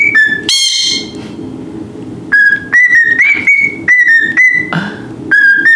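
A pet cockatiel whistles a melodic tune up close and loud, a run of clear, bright, repeated whistled notes in short phrases separated by brief pauses, with a few rougher chirps mixed in.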